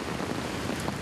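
Rain with strong wind in rural East Timor, a dense steady hiss of falling drops and gusty rushing, close and constant throughout with no talk.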